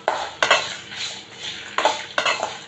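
Shallots and coconut being dry-fried in a pan without oil, heard as a few close, sharp scraping and clinking strokes of a utensil against the pan at an uneven rhythm, with no talk.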